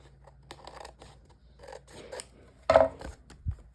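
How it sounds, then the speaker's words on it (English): Scissors trimming the bottom edge of a paper craft cottage piece, giving a few soft, close snips and rustles, with one sharper, louder cut near the end. "Now I'm going to trim the bottom since I probably just didn't cut straight the other one."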